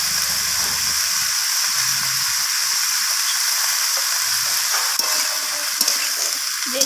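Cut eggplant and spinach stems sizzle steadily in a hot pan, a loud, continuous frying hiss with occasional soft stirring scrapes and no talking.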